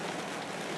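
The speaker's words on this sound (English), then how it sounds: "It's really raining. It's probably loud." Heavy rain in the Pacific Northwest falls as a steady, dense broadband hiss of drops on surfaces, loud and continuous, with no voices over it.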